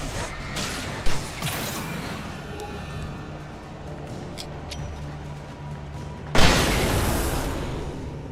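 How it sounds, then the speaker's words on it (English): A flashbang detonates in Alan Wake Remastered: a sharp bang near the start, then a long ringing haze, and a second loud burst near the end that leaves a broad hiss. "Flashbangs are so fun to use."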